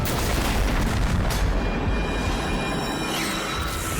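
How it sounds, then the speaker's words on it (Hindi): A deep, sustained rumbling boom fills the clip, dense and noisy like the roar of an explosion, with no voices. "धमाका।"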